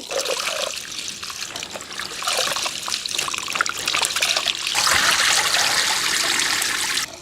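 Water runs and trickles steadily while a kilogram of basmati rice is washed for chicken biryani, the splashing growing louder and brighter toward the end, with no voices.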